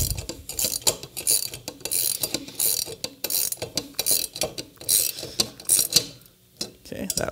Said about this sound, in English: so I'll add the wrench now.